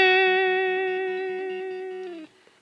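A single sustained electric guitar note with vibrato, a steady rhythmic pitch wobble under effects and distortion, held about two seconds before it bends down and cuts off.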